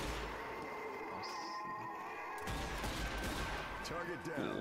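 Zombie Army 4 gunfire, with pistol shots cracking over a busy game soundscape, a few sharp reports, the second half louder and denser, with voices faintly under the action.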